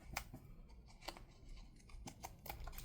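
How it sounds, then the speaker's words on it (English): Scissors snip through washi tape during junk-journal crafting, giving a few sharp, close cuts spaced irregularly over a quiet room with no talking. "Let's go ahead and trim this off here."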